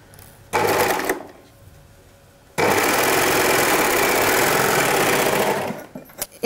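An overlock serger stitches swimsuit fabric in two runs, a short burst of rapid mechanical whirring, a pause with quiet handling, then a longer continuous run close by before it stops.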